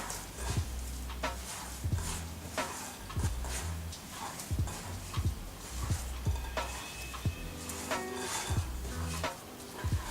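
Lunetta bread dough is kneaded by hand on a work surface, making soft, regular slapping and pressing thuds about once a second. Faint background noise runs underneath.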